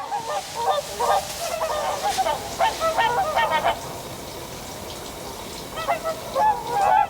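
Geese honking outdoors at moderate distance, a flock of adults and young giving repeated nasal calls in irregular bursts over a soft background hush.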